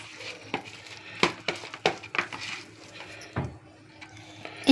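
Tamarind juice being mixed by hand into a gram flour batter for old-style pakodas, soft intermittent stirring and a few sharp clicks of a spoon against the bowl, close and quiet.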